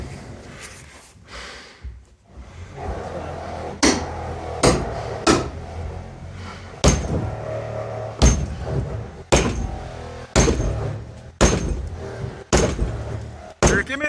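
Heavy hammer blows strike a load-bearing wall being straightened, at irregular intervals, a dozen or so loud sharp impacts with brief pauses between them.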